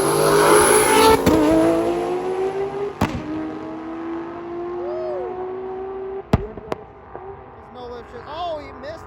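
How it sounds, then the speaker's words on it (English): Drag-strip race between a Toyota Supra and an old second-generation Chevrolet Camaro: a loud engine roar at launch with rising revs, sharp cracks and pops, then the sound thins out as the cars pull away, with voices in the background. "Let's see what the Supra can put down next to the old second gen Camaro over there."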